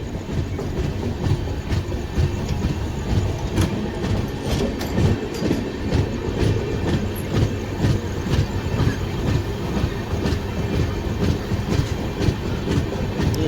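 A Howrah local train rolls past on the Kolkata–Puri line near the Kolaghat bridge, a loud steady rumble of wheels with repeated clickety-clack over rail joints throughout, no talk.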